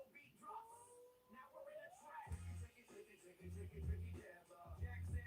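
A cat gives a long, drawn-out meow that rises and falls, followed by soft low thumps and background noise at a quiet level.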